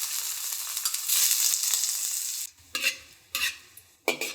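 Chunks of goose fat render in a hot wok with a little oil, a loud steady sizzle for a couple of seconds, then the frying drops away and a few sharp scrapes and clanks of a spatula stirring the pan follow.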